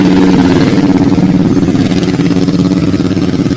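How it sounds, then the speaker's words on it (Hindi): A motorcycle engine runs close and loud in a steady, throbbing drone with no pauses or talk over it. "अपनी मोटरसाइकिल पर बैठकर वहां से निकल गया था"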